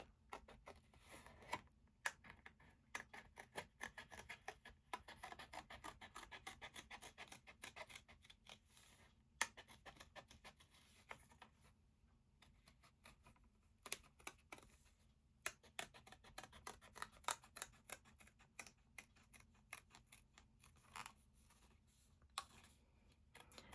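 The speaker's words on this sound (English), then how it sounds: "I've got my scissors stuck in the card then." Scissors snip and scratch through card, a faint, close series of irregular crisp clicks and rustles scattered through a quiet indoor room with no talking.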